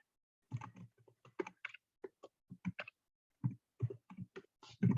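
Bursts of typing on a computer keyboard, close and crisp, with irregular clusters of key clicks separated by short pauses.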